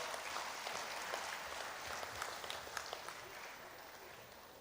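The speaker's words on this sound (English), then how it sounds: "Please give a big round of applause." Applause from an audience at a medical college's silver jubilee celebration in Mangalore, greeting a bouquet presentation to a bishop; a steady, fairly faint wash of claps that fills the whole stretch without letting up.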